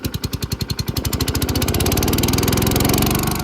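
A Sky Vac gutter vacuum's petrol engine, choke on, starts with a few chugging pulses and then settles into a steady, loud, fast-running drone, close up and with no talk.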